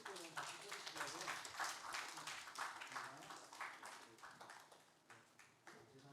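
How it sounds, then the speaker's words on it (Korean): A church congregation at a Sunday worship service claps together in encouragement, a soft, rhythmic round of applause with distinct regular beats, heard faintly. "여러분 격려의 박수 한번 일곱 번은 같이 쳐주시고요."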